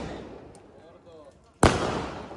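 Firecrackers bursting at a village wedding celebration in Maharashtra, one sharp loud bang after a stretch of quieter background noise, followed by a decaying rumble.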